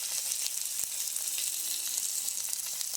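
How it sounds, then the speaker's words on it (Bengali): Egg roll fillings with tomato and chillies fry in a pan, giving a steady, close hiss of sizzling oil with faint crackles throughout and no talk. "আমাদের ইনগ্রিডিয়েন্টগুলো একটু একটু ভাজা হয়ে গেছে।"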